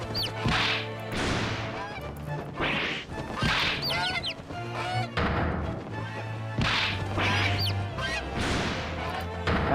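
A goose in the video game Ace Attorney Chronicles, loud repeated honks in quick bursts with short gaps between them.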